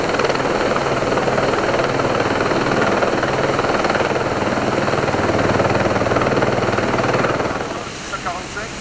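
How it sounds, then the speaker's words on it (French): A helicopter's rotor thumps and engine roar continuously close by during a river rescue extraction, loud and steady, fading slightly near the end as a voice briefly sounds. "extraite du milieu par l'hélicoptère"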